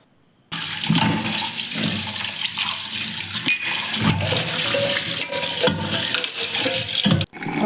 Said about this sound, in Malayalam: ചായ കുടിയൊക്കെ കഴിഞ്ഞ് പാത്രങ്ങളൊക്കെ ഒന്ന് കഴുകി വെക്കുകയാണ്.